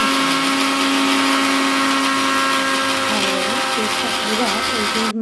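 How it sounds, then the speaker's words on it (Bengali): A mixer grinder whirs loudly and steadily with a high motor whine, grinding poppy seeds and water into a paste, its pitch wavering slightly as it blends, then cuts off abruptly. "দিয়ে এটাকে মিক্সচারের মধ্যে পেস্ট করে"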